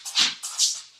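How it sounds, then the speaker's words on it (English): A pet dog whimpers twice in close succession nearby, two high, thin whining cries in a quiet room. "If you hear that, that's my dog, and I apologize."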